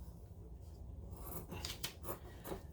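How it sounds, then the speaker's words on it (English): Scissors trim the corners of a fabric-covered junk journal cover with a few close, crisp snips and rustling fabric in quick succession after a short quiet start. "I'm going to trim the corners"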